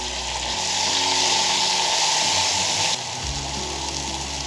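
Mushrooms sizzle and fry in a pot over a campfire, a steady close hiss with a low crackling rumble underneath that briefly eases toward the end.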